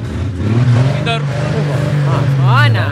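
A car engine with a 250 motor drones and revs loudly up close at a street celebration in Plaza Dorrego, its low hum rising and falling while people talk over it.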